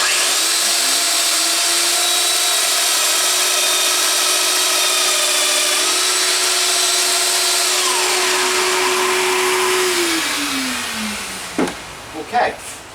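A Festool Domino joiner plunges and cuts a 14 mm mortise, a loud steady motor whine for about ten seconds that then winds down, with a few faint clicks and handling knocks at the end.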